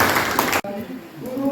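A classroom group claps after a group presentation, a dense burst of applause lasting about half a second that cuts off abruptly, followed by people talking.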